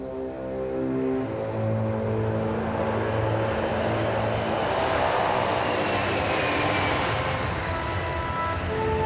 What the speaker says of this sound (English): you are cleared for takeoff